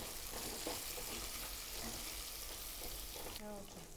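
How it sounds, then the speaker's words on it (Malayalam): Three medium onions, sliced lengthwise, sauté in hot oil for a Kerala fish pickle, giving a steady close sizzle with occasional stirring scrapes; the frying sound thins out near the end. "അത് നമ്മൾ ഈ എണ്ണയിൽ 3 മീഡിയം സൈസ് സവാള നീളത്തിലേക്ക് ചാടുന്നു"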